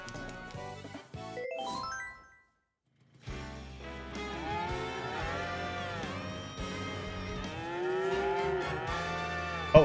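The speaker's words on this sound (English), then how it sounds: "Oh, and there's multiple different cow sounds." Cow moos from the Mario Kart Live video game, several different drawn-out electronic moos in succession with a brief silent gap, loud and close, alone without talk.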